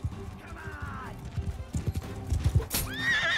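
Horse in the video game Mount & Blade II: Bannerlord, hooves clip-clopping at a gallop, then a shrill neigh near the end, with someone talking over it.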